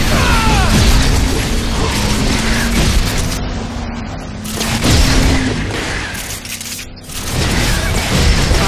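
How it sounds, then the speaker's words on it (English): Explosions and mechanical crashes boom through a Cars 2 video game battle as a missile launcher fires, with loud dense bursts and clattering debris filling the whole stretch without pause. "And kaboom."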